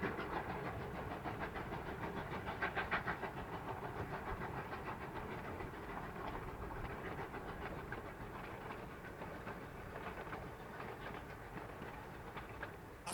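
Coal-burning steam locomotives working a railway grade, heard as a faint, continuous rumbling clatter with soft rhythmic rail noise that holds steady from start to finish.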